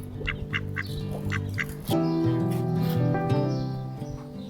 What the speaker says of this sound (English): You are a little cheeky duck.